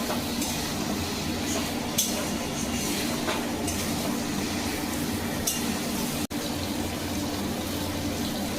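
Potatoes fry with poppy seed paste in a pan, a dense steady sizzle and hiss with a few light scrapes of stirring, close and continuous.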